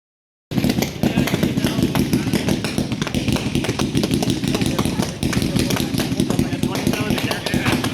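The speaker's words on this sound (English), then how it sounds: "sorry for just checking random video of fireworks in there" Fireworks going off in rapid succession, a loud, dense barrage of crackling bangs and pops with a rumbling undertone throughout, and voices faintly mixed in.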